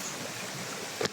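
Flowing water in a small stream, a steady close wash of rushing noise lasting about a second with a brief louder splash at the end.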